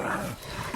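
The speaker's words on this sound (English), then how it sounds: "Such loud bark." A big young dog gives a single short, loud bark at the very end of a brief moment of muffled low noise.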